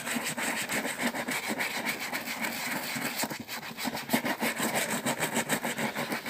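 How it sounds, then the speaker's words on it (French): Brush rubbing grease into a leather shoe, rapid rhythmic back-and-forth scrubbing strokes, close and steady, heard alone. "Je repasse même dessus avec la brosse"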